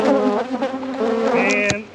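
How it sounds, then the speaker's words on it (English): Agitated honey bees from a freshly opened winter hive, worked without smoke, hum in a loud, dense, close buzz that wavers in pitch throughout, with a brief sharp knock near the end. "And so far I'm making another hive mad at me."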